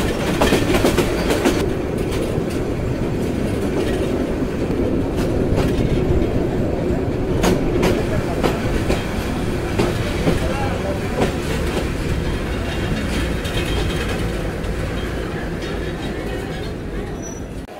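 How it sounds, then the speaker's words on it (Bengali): Jamalpur Express rolling into Mymensingh junction, a steady loud rumble of wheels and carriages with rhythmic clatter on the rails throughout, easing off slightly toward the end. "জামালপুর এক্সপ্রেস প্রবেশ করলো ময়মনসিংহ জংশনে"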